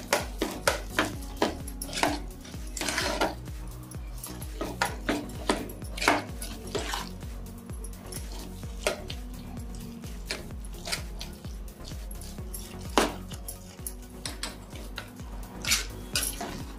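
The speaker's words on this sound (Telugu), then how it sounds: "ఫ్లేమ్ సిమ్లో పెట్టుకొని బాగా కలుపుకోవాలి." Cooked rice being stirred in a pan over a low flame, with repeated scraping and clinking of a utensil against metal in an uneven rhythm, close and fairly loud.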